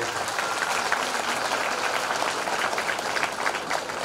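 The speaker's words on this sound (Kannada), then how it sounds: "ಆ ಉದ್ಘಾಟನೆಗೆ ನಿಮ್ಮ ಜೋರಾದ ಹೆಣ್ಮಕ್ಳ ಚಪ್ಪಾಳೆ." Women in a crowd clap loudly and steadily for an inauguration during an ashram ceremony with homa and puja, a dense, continuous burst of applause that stays even throughout.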